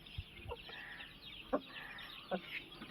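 Hens and roosters cluck in short, soft bursts a few times against a quiet outdoor background, fairly faint and spaced apart.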